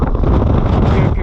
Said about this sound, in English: It's really cold, especially with the wind blowing.